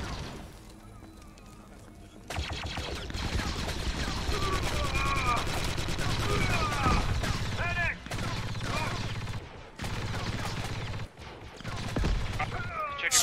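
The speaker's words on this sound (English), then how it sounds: "Give me some covering fire up top." Dense bursts of rapid gunfire fill the battlefield of Galactic Contention, a Clone Wars game with Republic Commandos on the front lines, steady and loud with brief lulls and voices talking over the shooting.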